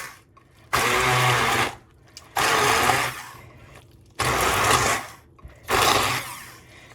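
A blender chops onions for homemade salsa in four loud, roughly one-second pulses separated by short pauses, each burst a harsh whirring roar close to the listener.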